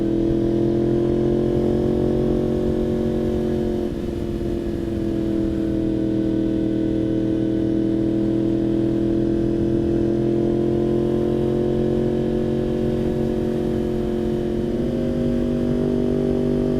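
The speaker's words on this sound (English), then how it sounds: "that is the SC Project exhaust on a" A 2016 Yamaha R1 fitted with an SC Project exhaust idles and holds a steady, loud, throaty drone with a slight dip in revs partway through, sounding close and continuous with no talking.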